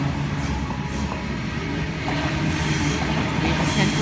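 A Waratah passenger train departs a platform at Ashfield station with a loud, close, continuous rumble of wheels and carriages and some faint wheel squeal.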